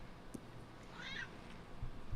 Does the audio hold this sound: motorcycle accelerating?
no